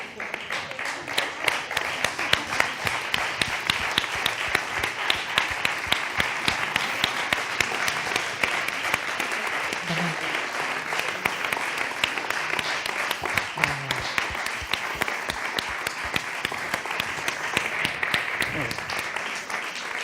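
Sustained applause fills the hall as an audience claps for the team at the closing event of an international culinary entrepreneurs' forum. The clapping stays dense and even throughout, with brief voices beneath it.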